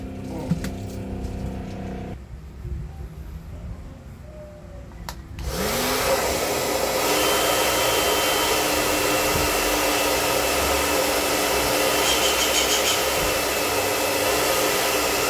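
A hair dryer runs after repair of its motor mount and heating element. Faint clicks and handling come first, then the motor kicks on with a loud, steady whooshing hum of blowing air that carries on to the end.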